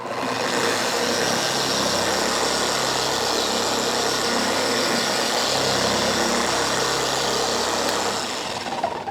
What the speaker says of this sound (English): And then you can just apply or spread the polish over the surface on speed 1